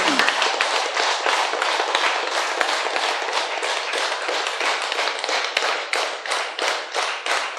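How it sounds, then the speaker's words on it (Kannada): A group of people clapping hands together after a meditation session, a steady, fast, loud round of applause that keeps going without a break, with clusters of claps in a busy, even rhythm. "ನಿಧಾನಕ್ಕೆ ಜೋರಾಗಂತ ಚಪ್ಪಳ ಹೊಡೆಯೋಣ."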